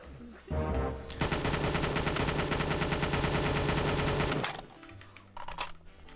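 Sustained rapid gunfire in the VRChat video game, a dense continuous burst of automatic shots lasting several seconds, loud and close, before tapering off.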